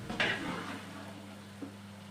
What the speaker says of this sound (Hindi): आपने कुकिंग ऑयल और प्याज को अच्छी तरह मिक्स करना है